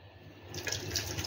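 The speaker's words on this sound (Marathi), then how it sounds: "म्हणजे 4 वाट्या इथे आपण पाणी टाकून घेणार आहोत।" Water poured into a pot for chicken pulao, a soft trickling pour that builds and grows louder over about a second, heard alone without speech.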